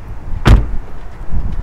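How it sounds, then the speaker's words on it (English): The door of a 2020 Mercedes E450 AMG convertible opens with a single sharp unlatching clunk, followed by a softer low mechanical movement a moment later, close up and otherwise quiet. "If you open the door, you can see that"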